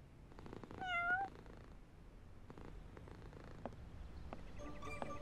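A cartoon cat purrs softly and lets out a brief meow near the start, faint and close, under a light animated-show background.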